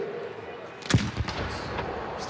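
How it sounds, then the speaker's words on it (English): Rice Stadium cannon fires at a Stanford vs Rice college football game, one sharp loud boom with a short echoing tail, followed by crowd and stadium ambience. "In the smoke, the rice cannon just gone off."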